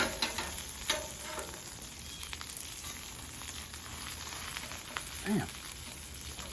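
Country fried steak sizzles steadily on a flat top grill, a dense crackling hiss that runs the whole time, with one brief spoken exclamation near the end.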